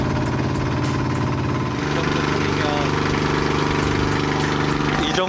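A boat engine runs loud and steady close by on a trip off Phuket, a continuous rumbling drone with a throbbing low pulse, while people talk faintly beneath it.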